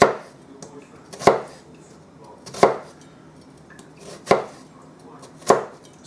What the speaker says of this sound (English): chopping up your onions.